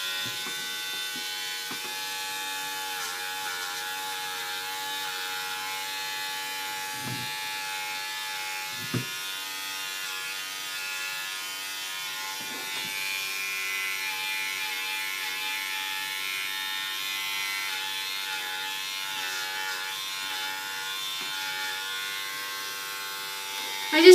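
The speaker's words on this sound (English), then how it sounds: "I just shave them the same length all over" Electric clippers run with a steady, even buzz while shaving a poodle's coat to one length all over, with a few soft bumps and rustles as the blade moves across the dog.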